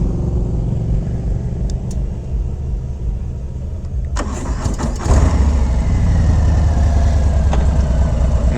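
Motorcycle engine rumbling steadily while cruising along coastal Highway 1, a loud continuous low drone with wind noise, swelling slightly after a few seconds.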